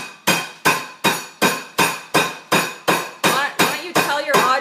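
Peppercorns are smashed for peppercorn-crusted ahi tuna, about eleven sharp, evenly spaced blows, each with a hard crack that decays quickly, loud and close with no talking.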